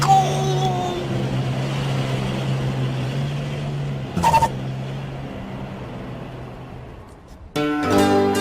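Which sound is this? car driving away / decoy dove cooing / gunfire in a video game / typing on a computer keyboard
car driving away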